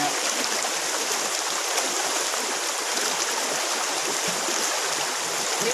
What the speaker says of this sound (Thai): นี่ก็คือล้างเอาเม็ดหินเม็ดทรายข้างในมันออกนะครับ